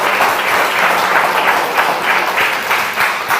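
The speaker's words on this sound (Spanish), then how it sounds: "Denle un aplauso al Señor" Sustained applause from a church congregation at a Spanish-language Yom Kippur service in London, a dense, steady wash of many hands clapping at close range, with no pauses and no voices.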